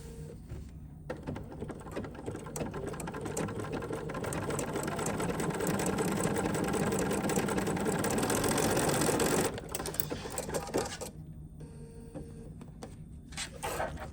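Sewing machine running a wide zigzag stitch, about 3.5 mm, with a wing needle fitted while sewing a lined napkin, a steady close mechanical whir with rapid needle rhythm that speeds up, cuts off briefly, then resumes more softly.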